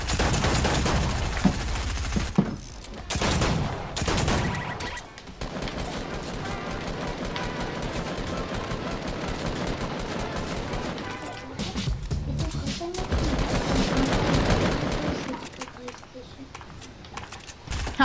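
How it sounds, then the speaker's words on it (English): Another Fortnite player fires rapid bursts of gunfire over many seconds, loud and close, with short gaps between volleys, while a person talks throughout. "He was just shooting at me like crazy."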